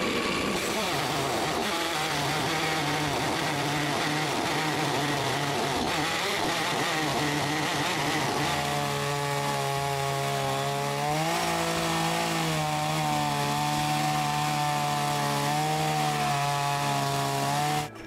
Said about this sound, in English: finish the job with his small chainsaw